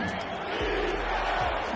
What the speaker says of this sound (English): Crowd on their feet chanting defense in a sold-out YMBA Telecom Park.